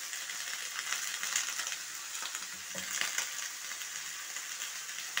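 Green beans and potatoes drop into a pan of frying spice paste for a vegetable dal with spinach, giving a steady close sizzle with brief clatters and stirring scrapes around the middle, no voices.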